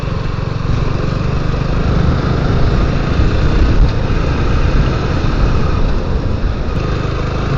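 A motorbike rides along a mountain road, its engine holding a loud, steady drone from start to finish with no voices.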